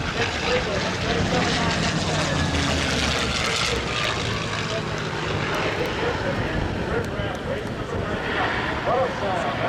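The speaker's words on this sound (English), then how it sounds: "The bent wing Corsair from the 1940s with a big 4360 cubic inch engine on the front." A 1940s bent-wing Corsair with a 4360 cubic inch piston engine roars past in an air race demo, a steady droning growl with wind noise that stays strong and close throughout.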